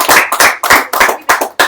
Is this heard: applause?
yes